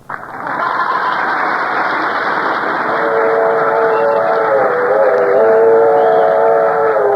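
A train rolls into Los Angeles railroad station in an old-time radio comedy, with a steady, loud rumble of wheels and cars, and a sustained whistle-like tone rises in the second half.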